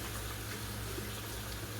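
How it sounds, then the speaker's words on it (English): A kitchen tap runs steadily while hands are rinsed, a soft continuous hiss of flowing water that stays faint and even throughout. "Rinse my hands off."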